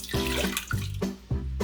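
A cup of water poured close up for miso ramen broth, splashing in a few short bursts with brief pauses between them.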